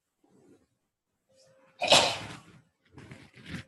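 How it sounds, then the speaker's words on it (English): A single loud, close sneeze bursts out, followed by soft breathy sounds and light movement in a quiet room. "Sneeze, bless you then."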